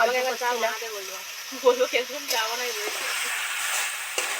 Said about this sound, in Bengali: মশলাগুলো থেকে তেল ছেড়ে গেছে দারুণভাবে ভাজা হয়ে গেছে